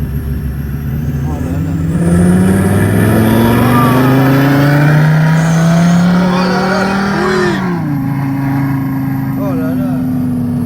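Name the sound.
Renault Twingo Cup engine revving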